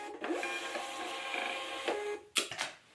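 A printer runs a shipping label in a home, a whirring mechanical feed with tonal motor whine, then a few sharp clicks and clunks near the end.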